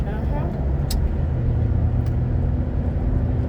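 A car rolls past, its broad engine and tire rumble steady and fairly close, with a couple of brief sharp clicks and a faint voice in the background.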